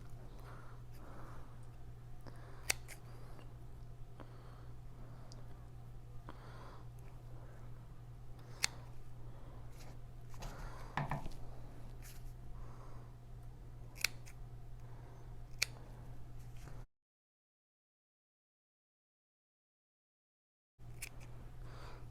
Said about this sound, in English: now we're going to trim the ends short.